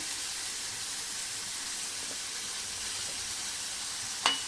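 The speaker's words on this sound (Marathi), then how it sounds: "इथे दोन चमचे तेल कडेत गरम करत ठेवले याच्यामध्ये आपल्याला दोन मिडियम साईजचे कांदे टाकायचे त्याच्यामध्ये थोडासा हिंग टाकायचं" Two medium onions and a pinch of asafoetida sizzling in two spoons of hot oil in a kadai, a steady close hiss throughout with a single sharp clink near the end.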